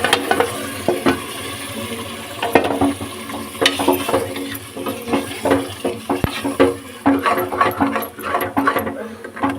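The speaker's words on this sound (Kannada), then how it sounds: "ಇದಕ್ಕೆ ನಾನು ರುಬ್ಬಿಟ್ಕೊಂಡಿರೋ ಮಸಾಲೆನ ಆ್ಯಡ್ ಮಾಡಿ" Freshly ground masala fries in a pan for village-style avare bele saaru, with a continuous sizzle broken by repeated scraping and stirring strokes close by.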